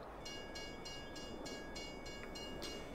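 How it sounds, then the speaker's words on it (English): Train arriving at a station in the video game Farming Simulator 22, a steady rolling rumble with rhythmic clacking of wheels over rail joints and a faint sustained tone. "Here comes the train."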